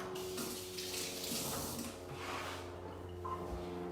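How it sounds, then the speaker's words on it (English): Kitchen tap water runs steadily as fingers are rinsed under it, a close, continuous splashing hiss with small shifts in tone as the hands move through the stream. "Let me rinse my fingers."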